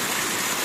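Heavy rain pours during a flood in Gujarat, where waterlogged streets fill with flowing water, giving a loud, steady, dense rushing hiss with no pauses.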